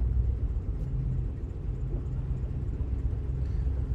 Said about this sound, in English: I'm gonna add a little bit of throttle.